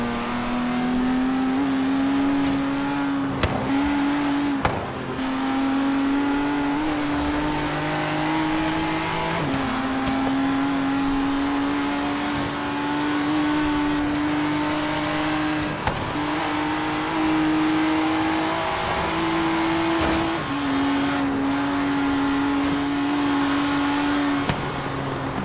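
A 2017 Ford GT in Forza Horizon 3 drones loudly and steadily at high revs, the engine note climbing and dropping through several gear shifts over a long stretch with no talking.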